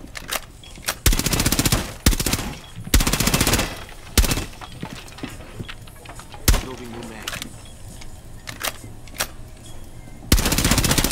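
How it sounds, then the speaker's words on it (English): Bursts of automatic gunfire in Rainbow Six Siege as a player shoots at window bars, several long rapid volleys and scattered single shots, loud and close, with faint game voices in between. "I'm just trying to shoot the bars."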